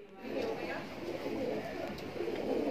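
Kaldume pigeons in a loft give soft, low cooing calls that repeat in gentle rolling phrases over a steady murmur of background noise, close but quiet.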